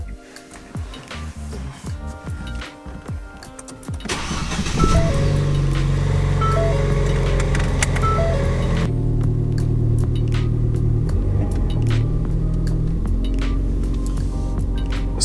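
2017 Ford Fiesta ST with a new intake pulling out on a test drive, a steady close engine hum and drone that rises sharply in loudness partway through and then holds.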